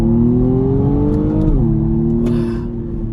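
A 2020 BMW M135i xDrive pulls hard in second gear, its engine note rising steadily, dipping briefly at a shift, then droning on loud and close inside the cabin.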